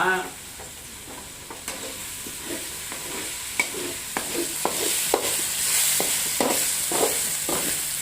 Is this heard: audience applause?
no